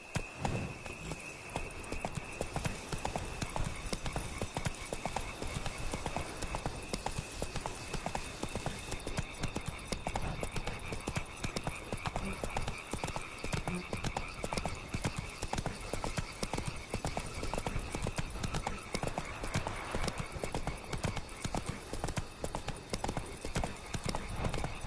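A horse galloping in The Witcher video game, with rapid rhythmic hoofbeats pounding steadily for the whole stretch, up close, and a brief whinny; faint game ambience underneath.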